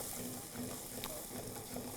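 Chillies crackling in hot oil in a kadhai for kadhai paneer, a steady quiet sizzle with small pops and occasional stirring clinks, close up.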